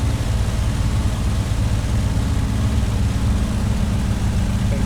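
A2A P-51D Mustang piston engine in Flight Simulator X with the throttle pulled back on landing approach: a steady, loud, low droning rumble throughout, no voices.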